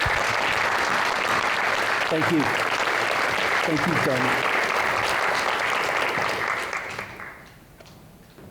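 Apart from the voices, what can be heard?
applause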